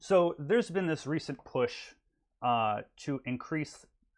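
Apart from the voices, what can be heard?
None of the usual background noises is heard.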